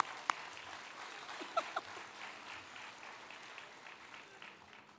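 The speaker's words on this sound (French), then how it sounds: "On peut les applaudir." Applause from an audience at a PTB political campaign rally, a quiet, diffuse patter spread through the whole stretch with a few sharper claps or knocks standing out, no voices rising above it.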